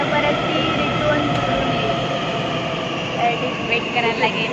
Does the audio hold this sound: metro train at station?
yes